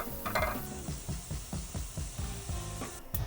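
Garlic sautés in a pan over medium-high heat, a soft sizzle broken by a rhythmic series of spatula scrapes and stirring strokes, close and fairly quiet.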